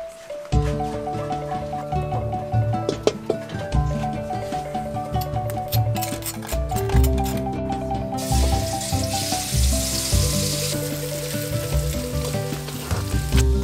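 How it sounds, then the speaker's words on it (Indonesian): Ground spice paste with lemongrass and lime leaves sizzles steadily as it is stir-fried in a pan, a dense, continuous crackle heard close under background music. "dalamnya kita masak, kita tumis."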